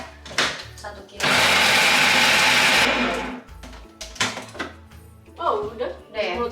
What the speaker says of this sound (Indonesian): Nah ini kita pakai udang 500 gram, di blender dulu kan, udangnya di blender